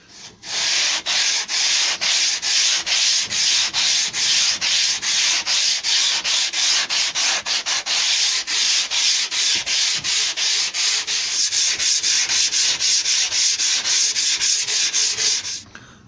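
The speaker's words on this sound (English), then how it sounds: "so when you're sanding you want to sand at an angle" Steady, continuous sandpaper rasping on wood, loud and close, with quick back-and-forth strokes running for the whole stretch without pause; 120-grit paper smoothing kitchen cabinet doors.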